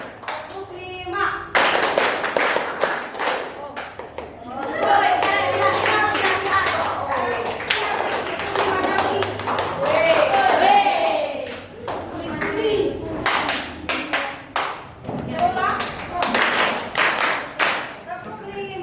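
Grade 8 students in a classroom do a five-clap counting routine, with many sharp group claps in irregular bunches mixed with chanting voices and crowd noise.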